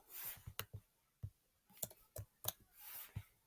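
Computer keys pressed in a quick cluster of sharp clicks, close and fairly quiet, with short pauses between bursts of tapping and no voices.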